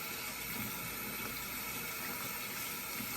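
Warm tap water runs steadily from a faucet into a sink while a makeup brush is rinsed, a continuous even rush with no pauses, close and alone.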